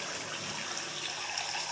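Half a cup of water pours into a pot in a steady, soft stream for a moment, close by and without talk.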